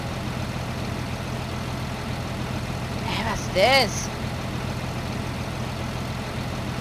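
A Skidoo snowmobile engine runs in a rescue simulation game, holding a steady low idling drone throughout with a brief louder swell partway through, and a voice speaks briefly.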